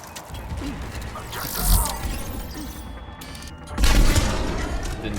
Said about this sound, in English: Didn't take long for a grenade to start flying in from somewhere.